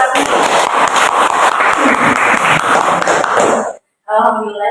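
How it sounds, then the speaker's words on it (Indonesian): Applause from a crowd at an Indonesian veterans' gathering, dense clapping mixed with voices for several seconds, then a brief silence before talking resumes. "aplaus buat kita semua"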